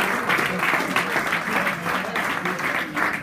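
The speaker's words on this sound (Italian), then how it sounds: "Luca Caccioli, un applauso, grazie." Applause from a crowd at a Parma football club supporters' party in Traversetolo, steady and fairly loud clapping filling the short moment with voices faintly mixed in.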